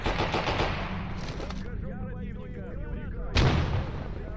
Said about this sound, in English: And they are shooting something.